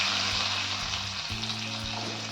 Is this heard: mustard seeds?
yes